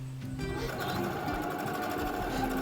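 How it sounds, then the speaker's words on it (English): A sewing machine hums and stitches steadily at close range, its rapid mechanical rhythm continuous throughout. "then sew that up on the sewing machine"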